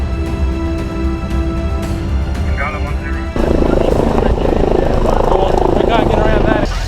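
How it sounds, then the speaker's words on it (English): A helicopter flying overhead during a bushfire response drones loudly and steadily with a pulsing rotor throb, growing louder and rougher partway through as it passes close. "There's not much we can do till the chopper's finished."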